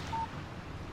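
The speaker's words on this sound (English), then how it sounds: "Text message from Barry." A phone's text message alert in the video game Alan Wake sounds as a single short electronic beep, clear but brief, over a steady low bed of windy ambient noise with no voices.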